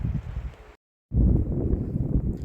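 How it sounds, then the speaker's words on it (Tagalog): Loud, blustery wind buffeting the microphone in low roaring gusts, broken by a brief moment of silence. "Sobrang mahangin."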